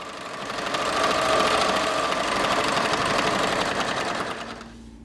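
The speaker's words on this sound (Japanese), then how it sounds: "念のため袋縫いで縫い合わせていこう" A sewing machine stitches French seams joining patchwork pieces of thin fabric from remade clothes, a close, steady rapid mechanical clatter that swells in and runs continuously for several seconds before stopping abruptly.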